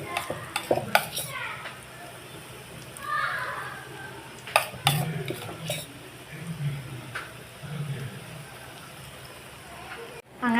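Onion vada batter fries in hot oil with a soft, steady sizzle, broken by occasional clinks and stirring of a pan, and a voice talks briefly over it.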